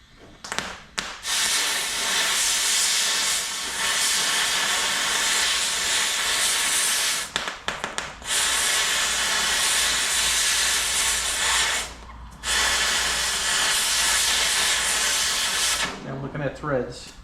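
A torch roars steadily at close range as it heats a welded-on spindle nut until the metal melts, a broad loud hiss running nearly unbroken with a couple of brief cutoffs.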